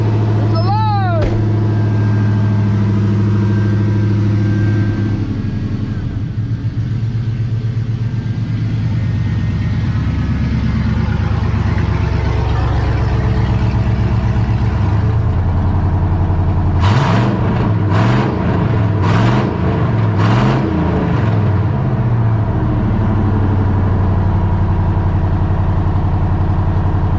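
A Chevrolet Silverado truck engine idles steadily nearby with a low rumble, broken late by a short series of quick revs, with some faint background noise.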